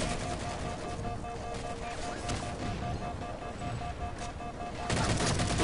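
Rapid automatic gunfire in the video game Halo 4, sustained dense bursts that continue throughout the clip with no gaps.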